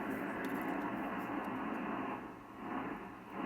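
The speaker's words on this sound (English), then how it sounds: "I can hear 80 meters with some static, and I can peak it now." A Drake TR4 ham radio receiver tuned to the 80-meter band with no antenna hisses with steady, faint static and a low hum, swelling and dipping slightly.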